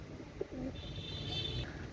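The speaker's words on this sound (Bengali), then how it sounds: "কবুতর পেয়ারটা দেখেন" A pair of Bihars pigeons coos softly and briefly, with a small chirp near the start, at low volume over a faint background hum.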